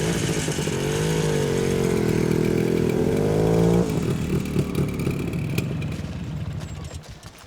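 A motorcycle engine runs loud and close with a droning, wavering tone for nearly four seconds, then drops to a rougher, clattering idle that fades slightly toward the end.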